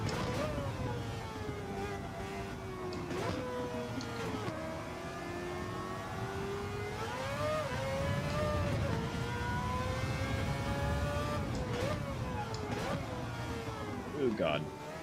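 A race car engine in Gran Turismo 7 holds a steady, loud drone whose pitch sweeps up and down with shifts and throttle, continuous throughout with brief dips and a final rise.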